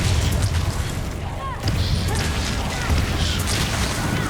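A Confringo fire spell detonates with a blasting burst in the Hogwarts Legacy video game, buried in a dense, loud and continuous wash of game effects and noise with no pause around it.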